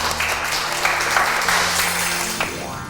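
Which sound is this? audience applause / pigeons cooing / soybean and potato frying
audience applause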